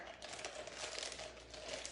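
A plastic bag crinkles steadily as it is fitted into a bowl in a kitchen, a close, dense rustle with no talking.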